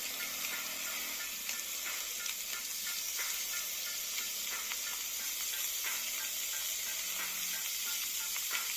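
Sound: bacon sizzling on a griddle

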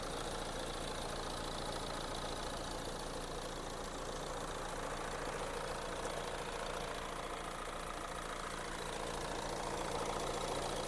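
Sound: car engine idling

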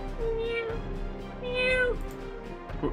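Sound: cat meowing in Epic Battle Fantasy 5 video game

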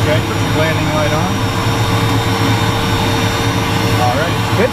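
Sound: Cirrus Vision Jet engine running

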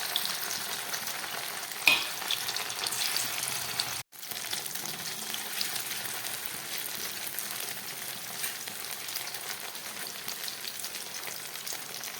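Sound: cornflour and salt coated paneer frying in oil

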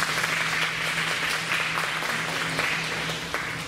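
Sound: applause

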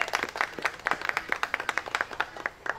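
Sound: audience applause at poultry show

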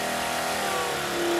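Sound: trolling motor running with a knocking noise

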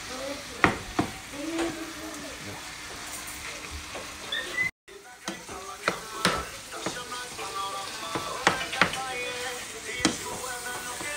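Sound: ground beef sizzling as it is broken up in a pan

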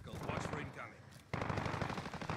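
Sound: light machine gun fire in video game Call of Duty: Modern Warfare

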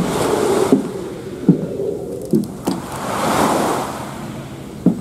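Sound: sea waves breaking on the shore

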